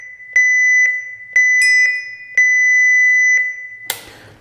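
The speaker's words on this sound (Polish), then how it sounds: "Wyślijmy z tego radia alarm distress." A marine radio DSC distress alarm: a loud electronic tone beeps in repeated long pulses with a brief higher chirp between, ending with a short clatter.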